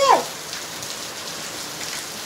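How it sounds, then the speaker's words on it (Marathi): Steady rain falls outside a house, a soft even hiss that fills the whole stretch, with a brief tonal sound at the very start. "मार्गाचा पाऊस चालू आहे बाहेर"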